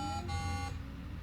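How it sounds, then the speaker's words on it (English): A memory game toy sounds a tonal beep, then shifts to a different, lower tone partway through, heard close and fairly quiet with no voices. "this toy only has one function, which is to generate a pattern of lights and sounds for the player to memorize"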